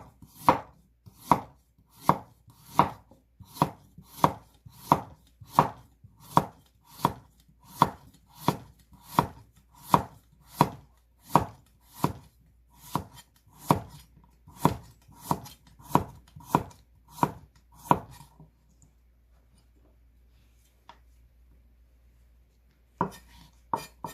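A knife chops a small carrot on a cutting board for yeolmu kimchi, about twenty crisp, evenly spaced strokes that stop abruptly, followed by a lone final chop after a short pause.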